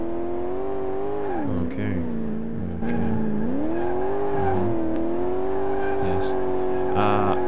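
Engine of a Toyota Supra drag car rated at about 152 horsepower in Car Mechanic Simulator 2018 drones steadily, its pitch rising and dipping through the gears, while a voice speaks briefly over it.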